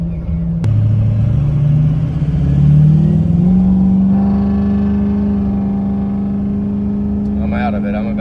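A truck engine accelerates at about three-quarter throttle, a loud steady drone whose pitch climbs, then settles into a sustained rumble. Someone talks briefly near the end.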